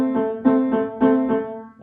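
A keyboard plays both hands together, mixing crotchets and quavers, in a short, clear passage of evenly repeated sustained notes with regular attacks and no speech.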